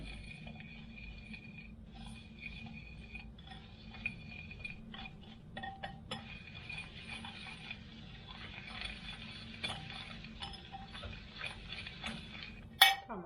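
Sugar and cocoa powder stirred together in a bowl with a spoon, making soft scraping and light clinking against the bowl over a low steady background hum, with a sharper clink near the end.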